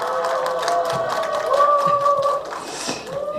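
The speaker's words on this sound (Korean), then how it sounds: "여러분들의 큰 함성으로 시작을 해보도록 하겠습니다" An audience at a disability health rights panel discussion lets out a loud, sustained shout of many voices, steady at first and then fading toward the end.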